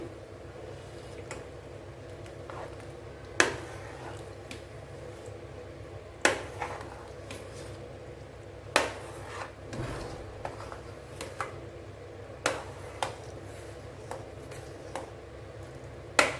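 A thick bisi bele bath rice mixture is stirred in a pressure cooker, giving soft wet squelches and scrapes. The faint, irregular strokes come every second or so, with no talking.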